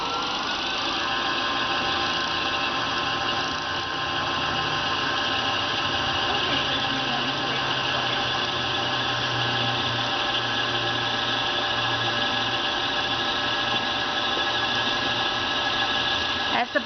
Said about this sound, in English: I will hit the start button and it will wind the bobbin.